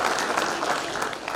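Audience applause at a public gathering, a sustained wash of many hands clapping together, fairly close and even, tapering slightly at the end.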